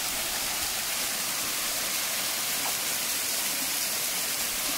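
Rushing water from a waterfall at Mont-Tremblant roars steadily as a dense, unbroken broadband wash, close and constant with no voices over it.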